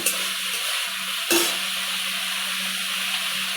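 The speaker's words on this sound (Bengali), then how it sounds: "রাঁধুনি আর আদা বাটা দিয়ে এই যে সবজিগুলো আমি ভালোভাবে কষিয়ে নিয়েছি।" Vegetables sautéing in a pan with radhuni and ginger paste, a steady hissing sizzle with a brief scraping clatter of a utensil, close and fairly loud, with no voices.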